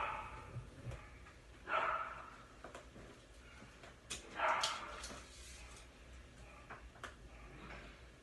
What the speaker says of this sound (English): I'm going to ignore all that barking